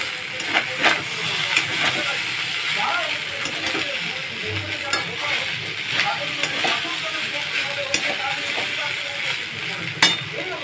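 Liver fries in a pan for fried rice, a steady sizzle broken by sharp scraping clicks of a utensil against the metal at irregular intervals, with a voice speaking quietly.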